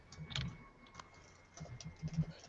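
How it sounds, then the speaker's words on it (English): Quiet, irregular clicks of typing on a computer keyboard come in short bursts with small pauses between them, close but faint. "I'm typing. Type faster!"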